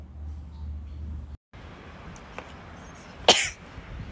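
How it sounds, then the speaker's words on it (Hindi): A single short, sharp sneeze bursts out near the end after a stretch of quiet room noise, with no talking. "भाई छींक आ गई, छींक रहा था,"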